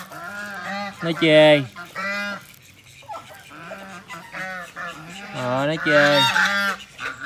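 Ducks and geese by a river give repeated loud, nasal honks and quacks in close, uneven bursts, with a person speaking briefly between the calls.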